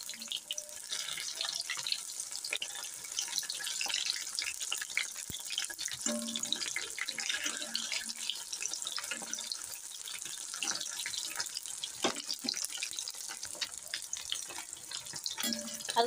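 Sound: moray fish pakoras frying in hot oil

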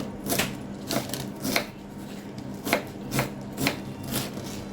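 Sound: chopping spinach stems

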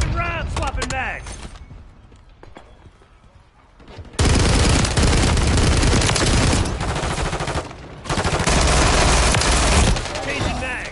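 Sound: gunfire in video game Call of Duty Modern Warfare 3

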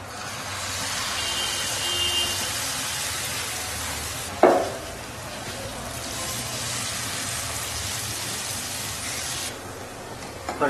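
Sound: frying pumpkin flower batter pancake in pan

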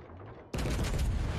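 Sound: warship main gun salvo firing in World of Warships Legends video game

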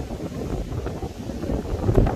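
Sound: strong wind

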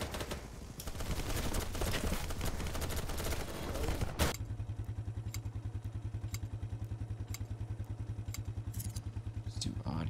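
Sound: gunfire from the video game Battle Bits Remastered

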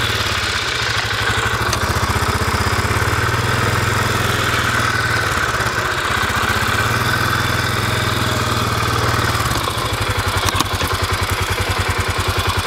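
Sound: overloaded vehicle engine straining as front axle is engaged

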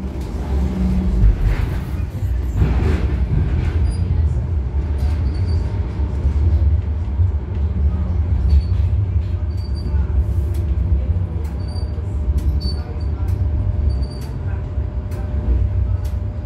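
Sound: tram ride interior, Sheffield

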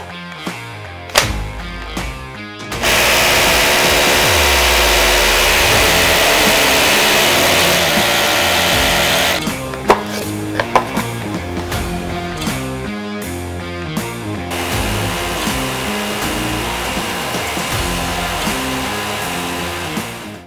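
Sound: Bosch drill drilling a hole with GDE18V-16 dust extraction

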